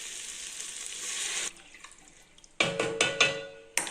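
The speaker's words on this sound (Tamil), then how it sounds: "இதில் 4 டம்ளர் தண்ணி ஊற்றிக்கலாங்க." Water pours steadily from a vessel onto green gram in a pressure cooker for about a second and a half. After a pause, sharp splashing and metallic clinks follow in several bursts.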